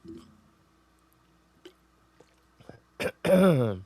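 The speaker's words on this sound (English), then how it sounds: "Let me clear my throat." A brief throat clearing, a couple of short rough bursts near the end after mostly quiet, followed by a voiced groan.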